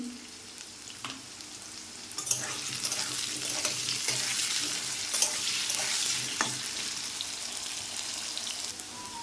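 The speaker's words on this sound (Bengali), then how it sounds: "আলুটা ভাজা হয়ে গেছে" Potatoes fry in a pan, a soft sizzle that rises into a fuller, steady crackle after a couple of seconds, heard up close with no speech.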